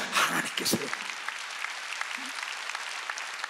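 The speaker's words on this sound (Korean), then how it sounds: "믿으면 박수" A church congregation at Sunday worship breaks into applause. Several loud, close claps come at the start, then the sound settles into a softer, scattered patter of clapping with a faint voice mixed in.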